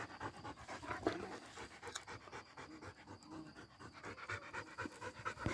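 A hunting hound pants close by after a chase, with quick rhythmic breaths repeating steadily and fairly quietly against outdoor background noise.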